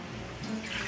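Water splashes briefly as it is poured into a bowl for ciabatta dough, a close, short liquid gurgle.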